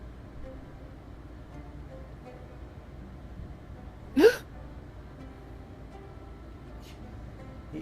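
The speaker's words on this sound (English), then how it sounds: "Was that a hiccup" A single short hiccup cuts through a quiet room during a Final Fantasy XIV voice session, one quick rising catch over a faint steady background hum.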